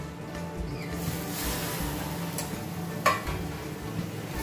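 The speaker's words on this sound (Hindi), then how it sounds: "टमाटर को भी अच्छा मिक्स कर लेना है" Tomatoes stirred into roasted semolina for upma in a pan, soft scraping and gentle sizzling continuing steadily with a couple of sharper clicks of the spoon.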